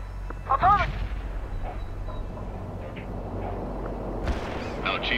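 Heavy artillery fire in the real-time strategy game World in Conflict: deep booming blasts land near the start and again near the end over a rumbling battlefield background, with radio-style voices speaking between them.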